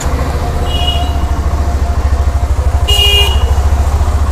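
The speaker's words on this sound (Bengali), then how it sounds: "ইঞ্জিনের সাউন্ডটা তোমাদের শোনাবো।" A Bajaj Pulsar N125 125cc motorcycle idles close by with a steady, low, rapid engine thrum, briefly overlaid by a short horn toot near the end.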